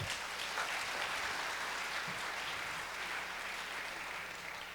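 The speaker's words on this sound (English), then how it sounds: "Let's give him another round of applause." Audience applause at a church anniversary concert, a steady wash of clapping throughout that thins slightly toward the end, with no voices over it.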